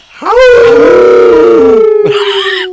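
Several people on a morning radio show imitate a wolf howl with their voices: one loud, long rising-then-falling howl, briefly breaking before a second voice joins near the end.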